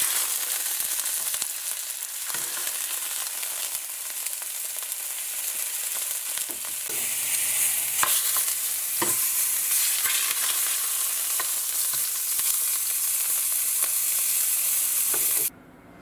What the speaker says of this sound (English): let's place this into our pan so we can sear the outside